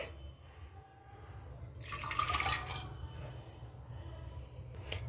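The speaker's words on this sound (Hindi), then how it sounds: "उसी कप के नाप से हम इसमें 2 कप पानी डाल देंगे।" Water poured from a cup into a pressure cooker holding chana dal for a bottle gourd curry, a soft splashing gush in the middle after a quiet start, fairly faint and close.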